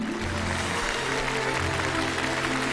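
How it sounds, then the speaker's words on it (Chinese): A studio audience at a televised Chinese program applauds to welcome a guest, a dense, steady clapping over music that runs throughout. "让我们掌声欢迎他"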